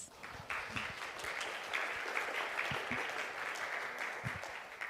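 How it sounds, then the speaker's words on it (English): An audience at an international conference on equitable education applauds, a sustained patter of many hands clapping at moderate distance for several seconds with no speech. "So please give a big round of applause once again."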